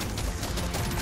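A rapid burst of loud, sharp video game sniper rifle gunshots fires in quick succession, dense and crackling.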